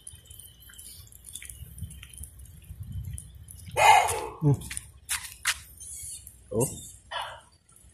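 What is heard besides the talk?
dog barking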